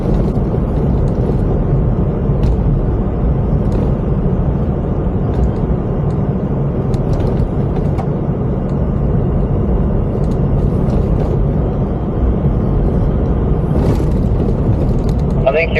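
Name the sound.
car driving over rough graded road at roadworks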